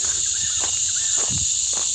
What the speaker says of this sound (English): The crickets are very loud.